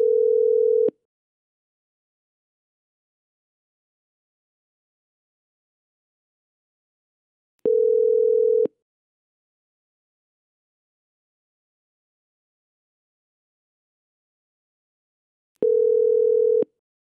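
A desk telephone placing a call sounds three steady, clean electronic tone bursts, each about a second long and spaced roughly eight seconds apart, with silence between and no talking.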